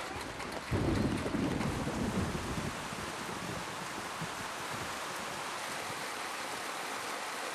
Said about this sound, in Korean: 비가 쏟아집니다